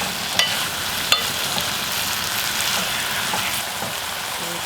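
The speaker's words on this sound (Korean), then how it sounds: "충분히 볶아준다고, 김치를." Kimchi stir-frying in a pan over heat for tuna kimchi stew, a steady dense sizzle and crackle throughout with a couple of sharp utensil clicks near the start, close and with no talking.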